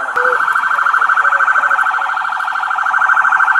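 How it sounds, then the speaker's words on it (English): Loud police car siren close by, a rapid electronic warbling wail that pulses steadily without pause. "Let me turn my sirens off."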